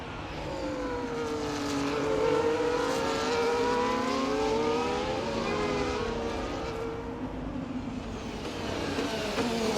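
Formula 1 cars, a Ferrari and a McLaren, racing down a long DRS straight at Marina Bay in Singapore in the EA Sports F1 game; steady loud high engine whine with rising and falling pitch sweeps from two cars close together.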